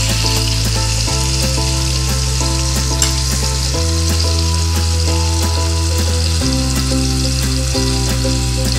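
Onion frying in oil in a pan for mutton rassa, a loud continuous close sizzle with stirring noises, heard alone under a droning tonal background.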